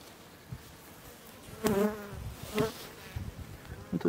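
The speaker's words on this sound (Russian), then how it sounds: "Пчелы Бакус очень пластичная пчела." Buckfast honeybees buzz close by in short, uneven bursts, with faint knocks and rustles between them.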